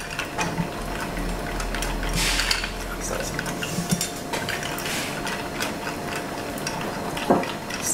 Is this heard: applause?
no